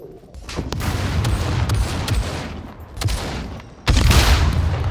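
Gunfire and explosions in the survival video game SCUM crack out as a rapid, loud fusillade of sharp bursts, with a brief lull before a heavier blast near the end.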